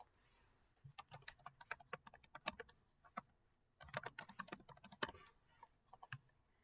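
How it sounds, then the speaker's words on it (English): Hand typing on a computer keyboard while entering a reference, with rapid irregular clicking keystrokes in two close bursts separated by a short pause, no talk. "I'm using this piece by Anthony Kordsman, I can use a combination of copying and pasting and hand typing."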